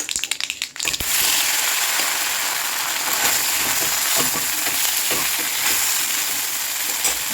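Curry leaves and mini idlis hit hot oil in a pan with a sharp crackle, then settle into a loud, steady sizzle with stirring scrapes, close up and without talk.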